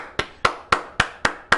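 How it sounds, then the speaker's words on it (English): Hands clap six times in a steady, evenly spaced rhythm, sharp and close, with no talking over them. "You get the upset claps of the day."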